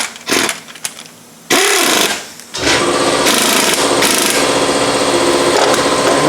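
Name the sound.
air gun removing bolt from Nissan Altima rear shock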